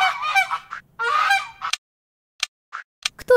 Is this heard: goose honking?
yes